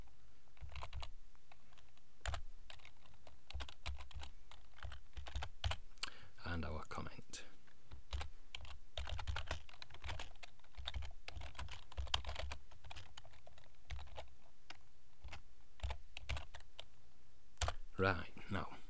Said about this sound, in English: Type in a website address if you want to.